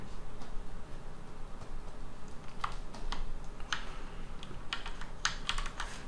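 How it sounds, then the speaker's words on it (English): Scattered key presses on a computer keyboard, quiet and close, tapping at an irregular rhythm over a steady background hum. "So I'm pressing Alt M. I got one hand over on the keyboard."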